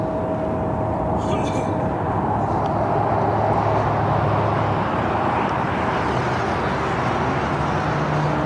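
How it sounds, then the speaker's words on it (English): A China Airlines Cargo Boeing 777 freighter rolls down runway 25 Right at Los Angeles International Airport, heard as a steady, broad, continuous roar at a distance, with a faint tonal whine running through it and talk over the top. "we got China Airlines cargo, 777 freighter now rolling down at 25 right"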